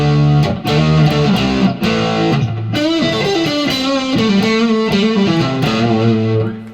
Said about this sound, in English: You can get yourself a distortion pedal